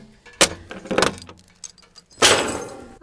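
Metal chains are pulled off an equipment trailer carrying a mini excavator, with loud clanking rattles in short bursts and a longer jangling drag near the end.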